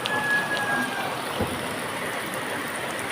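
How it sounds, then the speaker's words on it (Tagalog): Steady, dense rainfall hisses close by during flooding in Valenzuela City, an unbroken wash of drops on surfaces with no voices. "Ayan, grabe yung ulan."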